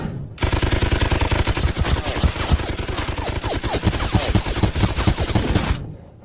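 Soldiers in the front rank fire a sustained volley, a loud, dense, continuous crackle of many shots with no pauses, cutting off sharply at the end.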